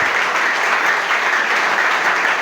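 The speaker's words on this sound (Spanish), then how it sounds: "Quiero que le den un aplauso a las mujeres, a estas mujeres guerreras." A church congregation gives the women a sustained round of applause, loud and close, with dense clapping that stays steady throughout and no talk over it.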